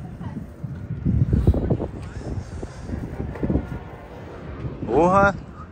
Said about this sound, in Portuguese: Rapaziada, que vento é esse, mano? Ah, não, tá muito forte.